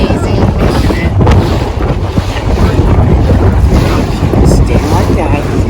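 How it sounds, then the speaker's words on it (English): Strong wind gusting over a boat out on the water, loud buffeting microphone rumble with waves and surf beneath, steady and close throughout. "You guys hear the wind?"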